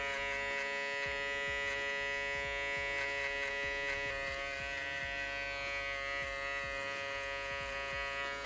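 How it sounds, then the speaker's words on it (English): Electric shaver buzzing steadily while cutting hair during a V-fade haircut, a close, continuous drone with small shifts in pitch as the blade moves through the hair, with no voices. "So you have to kind of bring the shaver this way."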